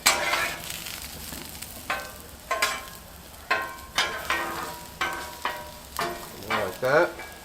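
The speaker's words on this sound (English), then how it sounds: "So, we're just going to go ahead and stir these around." Garlic parmesan mushrooms sizzle on a Blackstone griddle while a spatula scrapes and stirs them in a regular rhythm, about one stroke every half second, each stroke rising briefly over a constant frying hiss.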